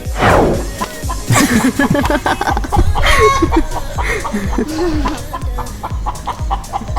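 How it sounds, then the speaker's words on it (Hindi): A hen clucks repeatedly and insistently, close and loud, with bursts of squawking cackles filling the whole stretch. "मुर्गी बंद नहीं हुई ना"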